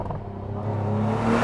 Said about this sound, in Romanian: Și da, ați auzit evacuarea. Se aude surprinzător de bine.